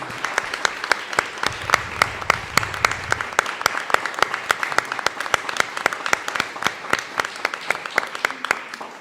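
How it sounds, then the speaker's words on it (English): An audience at a 2024 Colorado State House District 21 candidate forum claps steadily and fairly close, a dense run of individual claps for the candidates with no speech over it. "can have a round of applause for all of our candidates."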